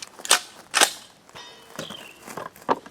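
Three sharp reports from a 12 gauge sniper rifle firing rifled slugs at a range, spaced out and close, each a short crack with quick decay, followed by fainter clicks and rustling.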